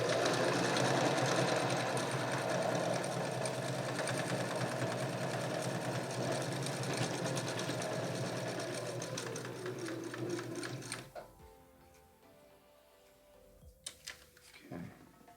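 A sewing machine stitches a seam to close up a homemade fabric mask, running in a fast steady whir with rapid needle ticking for about eleven seconds, slowing slightly before stopping, followed by faint handling noises.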